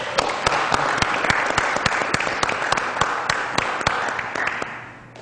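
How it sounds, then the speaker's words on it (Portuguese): An audience applauds a speaker walking to the centre of the stage, a dense, steady roar of clapping with a few sharp individual claps standing out, fading at the end. "recebendo os aplausos merecidos"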